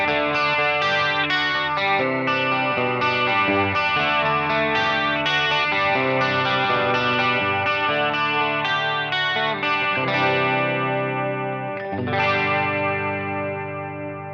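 Electric guitar runs through a Headrush MX5 multi-effects pedal on a preset, a thick, chorused, overdriven tone of ringing chords and melodic lines, loud and continuous without speech.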